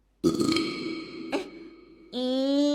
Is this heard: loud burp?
yes